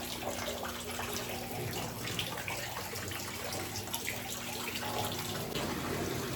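Water from a siphon pours into a tilapia tank with a continuous, fairly faint splashing and trickling, a steady low hum running beneath it.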